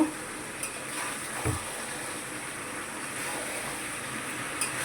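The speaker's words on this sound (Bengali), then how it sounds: "জিরে গুঁড়ো দেব দিয়ে এবার ভালো করে একটু কষিয়ে নেব" Chicken curry with cumin powder is stir-fried in a pan: a steady moderate sizzle with occasional soft utensil knocks, with no talking.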